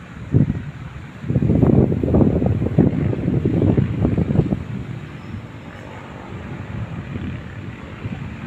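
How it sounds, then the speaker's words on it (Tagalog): Wind gusts buffet the microphone outdoors beside a riprap embankment, with rough low rumbling bursts that swell strongly for a few seconds, then ease into a steadier, softer blowing. "Sarap ng hangin dito."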